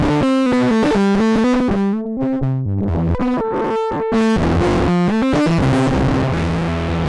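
A loud, gritty synthesizer line with harsh distortion from a Blue Lantern Lucky 7 24dB SH01 low-pass VCF/VCA filter, stepping through buzzing notes with dense, crunchy overtones throughout.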